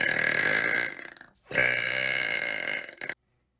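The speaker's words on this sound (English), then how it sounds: "Why are their burps so disgusting and weird?" Two long, loud, rasping burps come in close succession with a short break between them, harsh and close up, and nothing else is heard.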